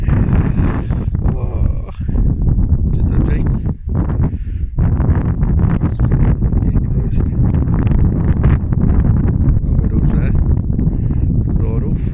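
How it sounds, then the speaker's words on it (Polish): Strong wind buffets a microphone outdoors in England, a constant low roar with gusty rustling through the whole stretch, loud and close, while people talk over it. "tylko żeby tego wiatru nie było"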